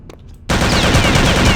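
Sudden burst of loud, sustained gunfire in Return to Castle Wolfenstein erupts after a brief quiet moment, dense and continuous like rapid automatic fire.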